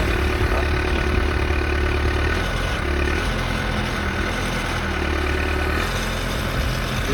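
A John Deere 310D backhoe engine idles steadily and close by, a continuous low diesel rumble holding even throughout with no voices.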